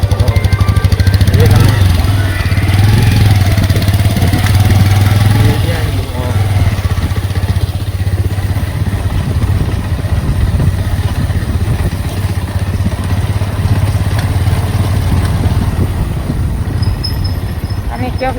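A motorcycle engine runs steadily on a badly muddy, broken road, a constant mid-pitched drone with rattling that lasts throughout, while a person talks over it.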